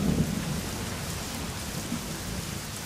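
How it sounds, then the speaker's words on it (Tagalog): Heavy rain pours steadily with low rumbling thunder underneath, a dense continuous downpour filling the scene without speech. "Uy, umuulan!"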